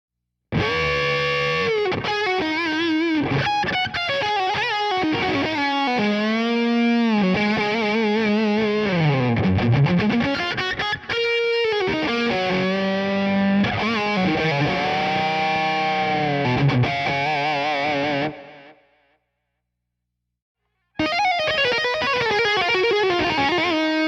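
Loud, heavily distorted electric guitar through a Radial Tonebone Trimode lead channel, playing a driving lead line with bends and sustained notes, cutting out briefly near the end before resuming.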